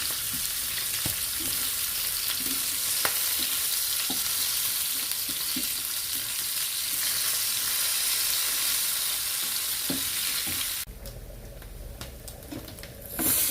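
Sardines frying in oil in a pan, a steady loud sizzle with occasional pops and crackles, cut short near the end by a lid or movement change to quieter sound.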